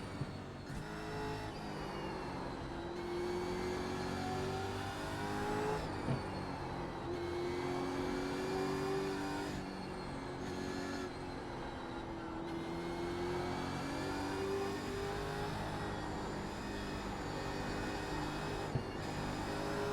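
Supercar engine in a sim racing game, a steady high-pitched drone rising and falling through gear changes across a lap, continuous and fairly subdued, with no talk.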